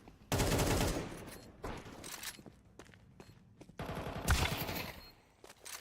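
Gunfire in Counter-Strike 2 during a pro match, including a wall bang shot through a wall, heard as loud, rapid automatic bursts with sharp separate shots and short gaps between volleys.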